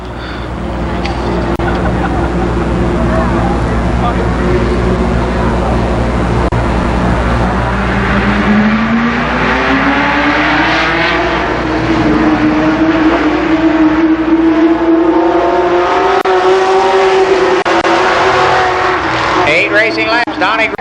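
Late model stock cars roar around Columbus Motor Speedway in a 1992 super late model feature, a loud continuous engine drone with rising and falling pitch as the pack laps, crowd noise and an announcer's voice beneath.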